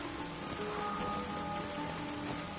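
Steady rain falls in The Witcher 3, a dense, even hiss of drops on surfaces that holds at constant loudness throughout, with faint tonal background ambience layered beneath and no voices.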